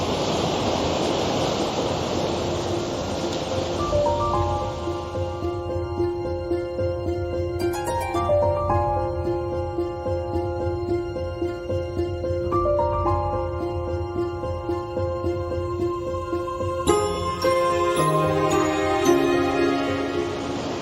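Waterfall in autumn Scotland pounding down through rocks, a continuous dense roar of rushing water close by, with steady tones layered over it throughout.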